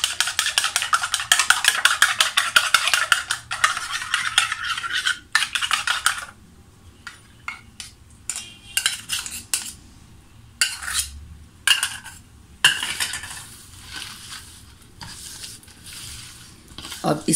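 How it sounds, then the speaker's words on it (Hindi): Fish pieces mixed by hand with a garlic and egg marinade for Pallo (toffee fish), giving close, busy wet stirring and clinking against a bowl in bursts, with quieter pauses between rounds of mixing. "और इसको अच्छे से हम मिक्स कर लेंगे।"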